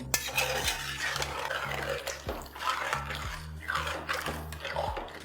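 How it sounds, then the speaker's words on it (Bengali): Chicken and yogurt are stirred in a pot over a high flame for biryani, with repeated scraping and clinking of a utensil against the metal pot over a steady low burner hum, close and moderately loud. "আর এই পাশে কিন্তু চিকেনটাকে আপনাদের এইভাবে ভালো করে মিশিয়ে নিতে হবে"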